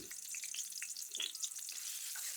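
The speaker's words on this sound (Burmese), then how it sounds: "အိုးထဲကိုစီထည့်ပြီးတော့ထောင်းသားတာတွေကိုထည့်ပြီးအနက်လေးမွေးနေအောင်စီတက်ပေးပါမယ်" Ingredients sizzle and crackle steadily in hot oil, a soft continuous fry with scattered pops and faint stirring, no voices.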